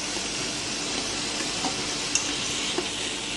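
Mashed boiled potato being stirred with chicken and spices in a hot pan for chicken singara filling: constant close sizzle with a couple of sharp spatula scrapes and taps, no talking.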